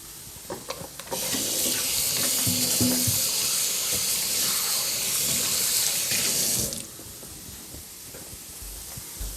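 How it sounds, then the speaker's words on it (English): Hands are washed under a running kitchen tap during burger preparation with meat, making a steady loud rush of water for about six seconds that then cuts off, followed by quieter room sounds. "Let me wash my hands real quick."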